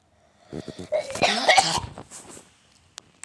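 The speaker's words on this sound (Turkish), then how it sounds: "boğazımı temizledim böyle." Someone clears their throat forcefully a few times in a row, close and raspy, then quiet with a couple of faint clicks.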